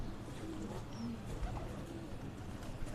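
Kasoori breeding pigeons coo softly in a loft amid a low, steady background rumble, with faint scattered calls and no nearby talk.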